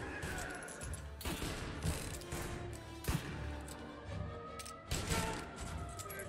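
Gunfire in Mafia Definitive Edition, a steady series of sharp shots with a few heavier cracks standing out, all at moderate volume with faint talk underneath.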